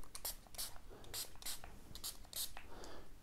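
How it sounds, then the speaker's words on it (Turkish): Cleaner spray is squirted onto the sensors of a Roborock S5 Max robot vacuum in several short, sharp hissing bursts at irregular intervals, close by, with faint soft voice sounds between them. "Yine sprey yardımıyla temizleyebiliriz."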